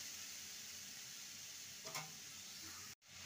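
Pointed gourd and potato pieces fry in a pan with a steady close sizzle and a brief stirring scrape, then the sound cuts out abruptly for a moment near the end.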